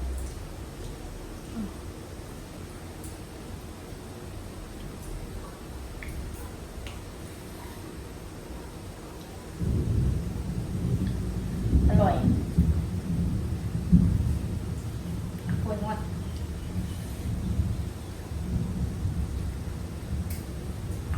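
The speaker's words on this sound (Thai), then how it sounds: "ฝนก็ตก วันนี้ฝนตก" Steady rain hisses in the background while low thunder rolls in partway through and rumbles on for several seconds.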